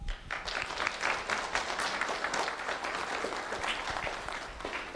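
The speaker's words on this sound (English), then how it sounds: "Round of applause for Jacory Timms." Audience applause for a student at a Lee County Sheriff's Office 'Do The Right Thing' recognition event: dense, steady clapping from a sizable crowd that fills the whole stretch at an even level.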